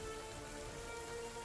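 Driving rain hisses steadily as a dense, even wash of drops with no breaks or distinct impacts, heard alone and continuous throughout.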